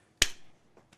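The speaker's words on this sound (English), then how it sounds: "Did that clap in your ear?" A single sharp hand clap right up close to the microphone, loud and abrupt, followed by a brief fading tail and two faint soft ticks, with no talking.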